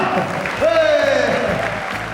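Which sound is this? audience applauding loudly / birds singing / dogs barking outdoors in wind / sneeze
audience applauding loudly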